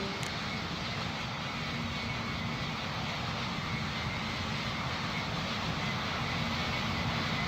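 Airliner landing in the Roblox game Pilot Training Flight Simulator, a steady loud jet engine roar and rushing air holding constant throughout.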